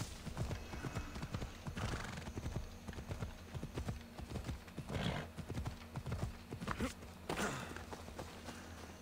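Horse hooves clip-clop in Assassin's Creed Odyssey, a steady walking rhythm of close, distinct hoof strikes with an occasional whinny over a constant game ambience and music bed.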